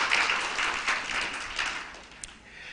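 An audience at the Kenya Power Expo 2022 gives a round of applause, moderately loud clapping that swells in several waves and then thins out.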